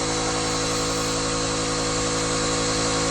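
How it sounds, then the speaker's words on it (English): A small compressor runs during wet sanding and polishing of a car hood, giving a loud, steady, unbroken mechanical drone close by throughout, with no talk. "I'm on a small compressor as well."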